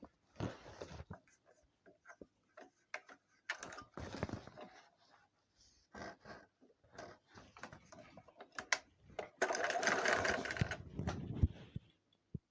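A sewing machine stitches a jacket lining to the fabric hem, heard as several short, close whirring runs separated by pauses, ending with a longer, steadier run, with faint mechanical clicks between bursts.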